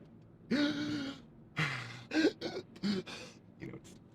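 A man imitates heavy, out-of-breath gasping with a series of loud, close, throaty breaths and rasping huffs, irregular in rhythm, each burst separated by short pauses.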